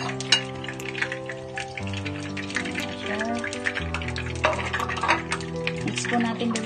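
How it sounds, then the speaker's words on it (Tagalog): Cooking oil crackles and spatters in a pan while eggs fry, making a steady sizzle with sharp pops. A melodic tone also runs underneath, and there is no clear speech. "tumatalsik po yung mantika"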